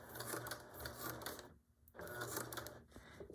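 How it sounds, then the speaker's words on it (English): A sewing machine stitches down a seam past a zipper pull in quick rattling bursts, stopping briefly partway through before running again, close and clear with no voices. "I'm gonna stitch all the way down past the zipper pull"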